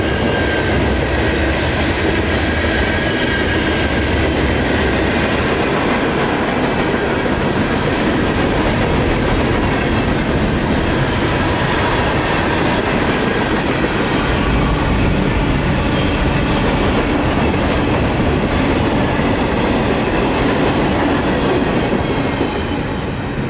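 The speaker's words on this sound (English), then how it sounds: "This train includes of miscellaneous freight, empty rock bound for Miami, loaded rock bound for Winston" A long mixed freight train passes close by, carrying empty and loaded rock cars among miscellaneous freight near Plant City, Florida; a loud, steady roll of wheels with clickety-clack and faint squeal holds for the whole stretch without talk.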